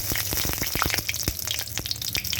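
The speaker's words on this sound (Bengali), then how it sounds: "কড়াইয়ে বেশ কিছুটা তেল দিয়ে দিলাম এবারে ফোড়নে দিয়ে দিলাম এক চামচ কালো জিরে" Black cumin seeds temper in hot oil in a wok, a loud close sizzle with rapid crackling pops and spits, no speech.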